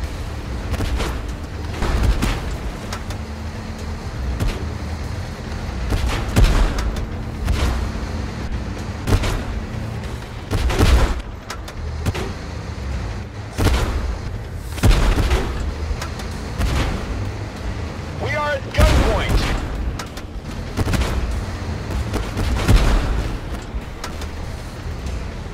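Artillery shells rain down in a tank combat video game, a series of heavy booms and blasts landing at irregular intervals over a continuous low engine rumble.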